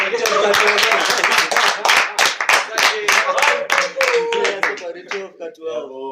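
Loose, uneven hand claps from a small group, sharp and close, with voices talking over them before the clapping thins out near the end.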